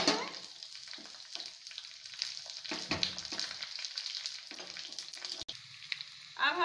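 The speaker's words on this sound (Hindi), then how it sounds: "तेल हमारा गर्म हो गया है, अब हम राई डाल देंगे और कढ़ी पत्ता।" Mustard seeds and curry leaves sizzle and crackle in hot oil for a dhokla tempering, a steady close frying hiss with scattered sharp pops, heard alone without talk.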